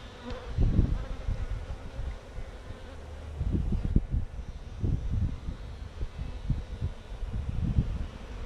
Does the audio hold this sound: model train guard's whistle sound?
no